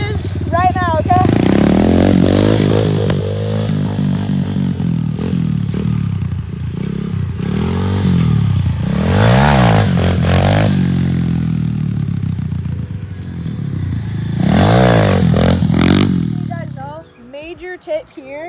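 Pit bike engine revving and roaring continuously while being ridden and pulled into wheelies, loud and close, with rising and falling pitch as the throttle opens and closes, and a voice talking over it.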